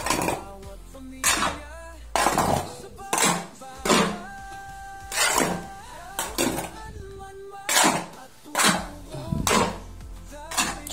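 Something is stirred in a metal pot, producing a series of intermittent clanks and scraping knocks roughly every second, some leaving a brief ringing tone, close and moderately loud.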